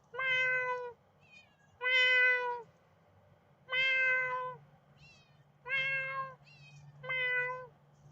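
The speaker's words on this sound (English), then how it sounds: "Cat call at its finest." A cat meows five times, each meow loud, close and drawn out, separated by short quiet gaps, with faint background hum and no talking.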